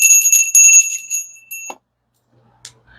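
A small bell rings in a quick series of bright, clear strikes that fade out, followed by a soft knock and near silence.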